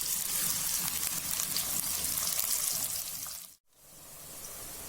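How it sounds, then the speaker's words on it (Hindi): Chopped onions fry in hot oil in a karahi for a beef karahi, a steady bright sizzle and crackle that cuts out abruptly, then returns as a softer hiss. "उसमें अब हमने 2 से 3 मीडियम साइज की कटी हुई प्याज ऐड करके इसको मीडियम ब्राउन करना है।"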